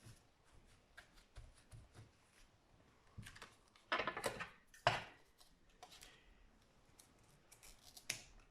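Scissors snip through card stock while making a shabby-style handmade card, a few close, crisp cuts standing out from quiet handling noise, with no talking.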